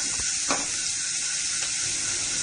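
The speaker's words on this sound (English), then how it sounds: "Fry this till it become translucent." Onions fry in oil in a pan, a steady close sizzle with a few faint clinks from stirring, no voices.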